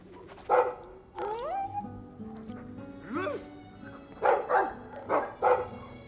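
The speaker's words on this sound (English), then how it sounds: "Of course, we have to say hi to the dog." A dog in the video game Dragon Age II gives a few loud, close barks spread across the moment, with whining, rising yelps between them over a low, steady game background.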